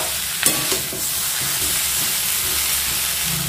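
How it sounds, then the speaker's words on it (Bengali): Salt and chili being stirred into a mixture in a pan for a hilsa fish head dish, with a steady sizzling hiss and a few scraping stirs near the start, no talking. "সব কিছুকে ভালো করে আগে মিশিয়ে নেব।"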